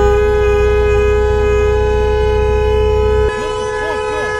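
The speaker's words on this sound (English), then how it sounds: "you just gotta honk as hard as you can" A car horn blares in one long, loud, steady honk at a Miami-Dade County traffic light, then cuts to a different, lower tone with shifting pitch; no talking over it.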